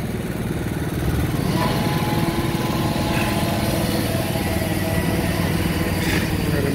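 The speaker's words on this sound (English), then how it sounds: "Second ramp going up. Wonderful power crane." The engine of a power crane runs steadily at a concrete construction site, a loud continuous mechanical drone with no pauses and no talk over it.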